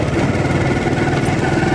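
A motorcycle engine sputtering at night on a lonely road, a rough uneven putter running loud and close without a break.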